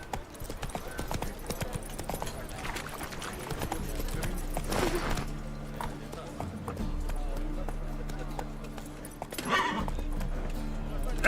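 Roach, Geralt's horse in The Witcher 3 video game, gallops in fast, rapid hoofbeats, and a whinny cuts through midway, with game ambience and music underneath.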